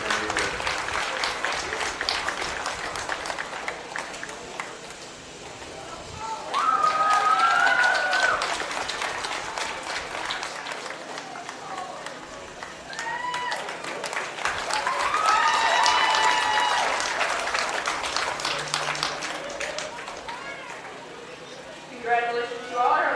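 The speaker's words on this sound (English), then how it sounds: "let's give the parents and the kids a real nice round of applause" An audience at a county fair 4-H beef show claps for parents and kids in sustained applause that swells and fades in waves, with a speaker's amplified voice and cattle-arena noise around it.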